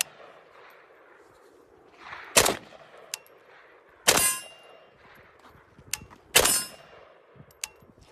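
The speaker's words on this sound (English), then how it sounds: "Shoot at the steel." Three sharp gunshots crack out at spaced intervals, fired outdoors at steel targets, and each is followed by a short metallic clang or ding. Quieter sounds in between fill the gaps.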